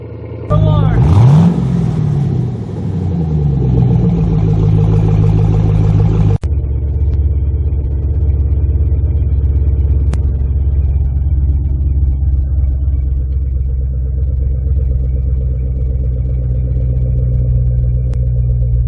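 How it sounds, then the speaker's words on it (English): A Camaro SS with a Flowmaster American Thunder Series dual round-tip exhaust revs sharply once with a rising, falling wail, then settles into a loud, deep, lumpy idle rumble that runs on steadily close by. "the old Flowmaster American Thunder Series dual round tip setup"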